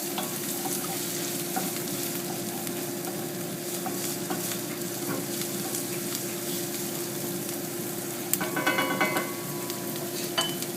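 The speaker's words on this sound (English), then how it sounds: "Let's stir our shallots and garlic." Shallots and garlic sautéing in a pan while cooking paella, a steady close sizzle over about ten seconds with occasional stirring scrapes and a brief clatter of a spoon against the pan near the end.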